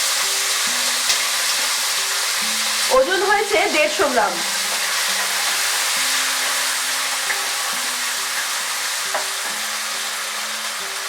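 Green peas and cashews fry in a pan over medium heat, a steady close sizzle and hiss running throughout. Someone speaks briefly over the frying near the middle.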